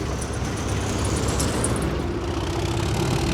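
A heavy diesel locomotive engine idles steadily with a low, constant rumble and hiss, no talking, the drone holding level throughout.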